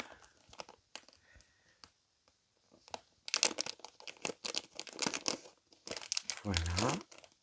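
A small cross-stitch item from a Temu order is unwrapped, with close crinkling and tearing of plastic packaging in irregular bursts while someone talks softly at the start.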